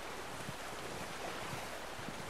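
A flowing stream in the Red Dead Redemption 2 wilderness gives a steady, soft wash of running water with a faint low rumble, even and unbroken, with no voices.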